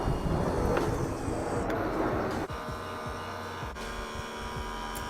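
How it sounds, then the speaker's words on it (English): A vacuum sealer sealing a plastic bag of pork ribs for sous vide cooking, running with a loud, steady motorized hum and whir that shifts in tone midway as the bag draws tight. "Let's pop this sucker in here and go ahead and vacuum seal."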